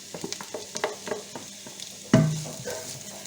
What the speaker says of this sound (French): je vais déjà mettre juste un peu d'huile pour démarrer la cuisson pour mes oignons et mon ail